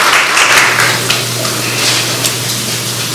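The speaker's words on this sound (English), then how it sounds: "we would like to give him a round of applause" Audience at a preservation awards ceremony giving a round of applause, a steady sustained wash of many people clapping with an even loudness throughout.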